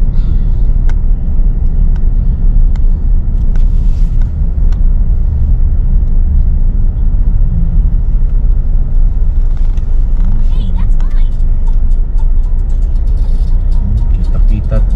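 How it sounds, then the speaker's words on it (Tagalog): Steady road rumble fills the cabin while driving through Brisbane city traffic, with a continuous low engine and tyre drone and faint passing vehicles, while a voice talks over it. "Napaka-traffic."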